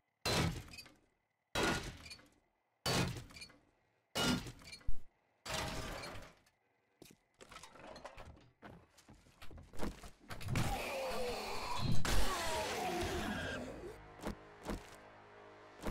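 Car being dismantled in the survival video game 7 Days to Die, heard as a run of loud, evenly spaced mechanical clanks and scrapes, then a denser burst of breaking and rattling metal.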